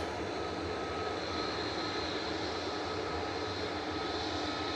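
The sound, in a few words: plane from Dublin on short final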